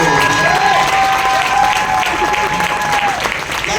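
Applause from an audience at a women's event, a dense sustained wash of many hands clapping, loud and steady throughout with a faint tonal hum running beneath.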